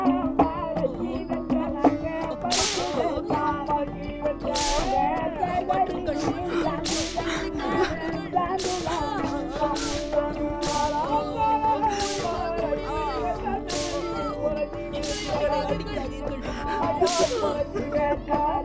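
Whip lashes crack at a steady pace, about ten sharp strikes roughly a second and a half apart, as people are beaten in a Tamil drama scene, all over loud, continuous dramatic music.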